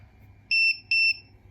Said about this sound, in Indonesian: dia akan memberikan pengetahuan kartu tidak terdaftar dan juga akan memberikan bunyi beep banyak 2 kali